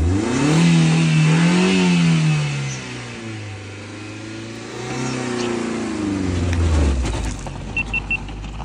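A car engine revs hard and strains while trying to pull away on a long, steep mountain road slope, the pitch rising and falling over several seconds, loud and close.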